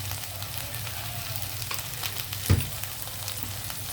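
Okra slices frying gently on a low flame with turmeric and salt, giving a steady soft sizzle with a single brief scrape of a spatula partway through; no one speaks.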